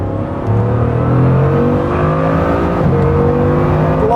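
A Bugatti Chiron Super Sport accelerating onto the Autobahn, its engine roar rising steadily in pitch through a gear change, loud and continuous as heard from inside the car, with no voices.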